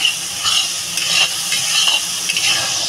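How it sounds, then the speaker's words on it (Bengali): Spice paste with chili powder stir-fried in oil for a Bengali chela fish curry, a steady close sizzle with repeated scraping stirs across the pan, no talking. "মশলাটা ভালো করে কষানো হবে"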